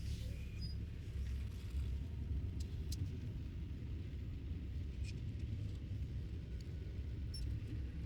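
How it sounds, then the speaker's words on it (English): A semi truck slowly reversing its trailer into an offset, heard from the cab as a steady low engine rumble that stays even throughout with a few faint high clicks above it; no speech. "I know now it's time to bring this trailer in"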